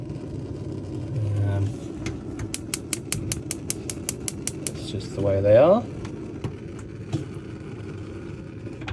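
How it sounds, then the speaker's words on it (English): A Dometic three-burner gas hob in a Knaus Sun Ti motorhome gives a quick, even run of sharp igniter clicks lasting a couple of seconds. A low engine-like hum runs underneath, and someone talks around the clicking. "You got your 3-burner hob up here, which has got an ignition just like any household one, so it'll ignite when you push it in."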